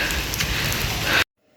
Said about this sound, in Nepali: एक्कासी हामी चाहिँ पानी परेर यहाँ कुरिरहेको छौँ